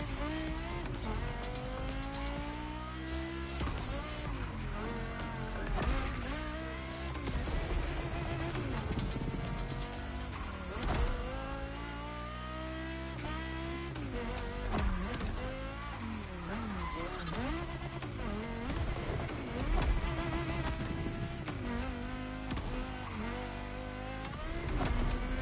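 A Porsche in The Crew Motorfest racing game skids and scrapes along barriers, with loud, continuous engine roar, repeated tire squeals and sliding noise, plus faint voice underneath.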